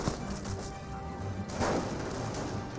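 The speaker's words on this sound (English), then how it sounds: "Landmine detonation there, blowing up both landmines" A landmine detonation in Company of Heroes 1, where two mines go off together and wipe out a rifleman squad. It is a dense, noisy blast layered over continuous battle noise, with a stronger burst about halfway through.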